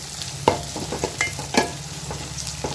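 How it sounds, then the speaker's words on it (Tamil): Green chillies for a fish curry sizzle continuously in hot oil in a pan, with repeated clattering scrapes from a spoon stirring them up close. "இப்போ இது எல்லாமே நல்லா வதங்கட்டும்."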